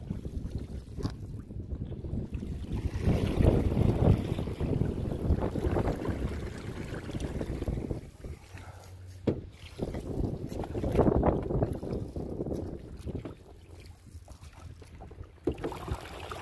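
A canoe paddled across a lake, with steady water swishing and splashing strokes over gusty wind noise against the microphone, fairly close and continuous throughout.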